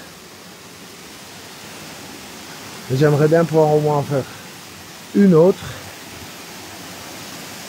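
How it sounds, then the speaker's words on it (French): Queue de Cheval waterfall at Chaumont above Saint-Claude, a steady broad rush of falling water filling the whole stretch, with a person speaking briefly over it. "la cascade de la queue de cheval à Chaumont, au-dessus de Saint-Claude."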